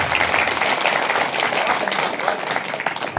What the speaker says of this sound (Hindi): एक बार ताली बजाकर आप बताएं।